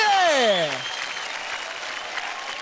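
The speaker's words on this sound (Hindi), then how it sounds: "जोरदार तालियां हो जाए ओमकार के रॉक स्टार्स के लिए" Studio audience at a kids' dance competition show bursting into applause, dense clapping continuing after a rising musical sting fades out.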